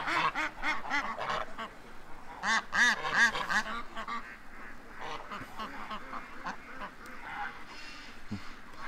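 Ducks quack in bursts of repeated calls, including a small white duck with a limp among the flock, close by, with quieter stretches between the calling.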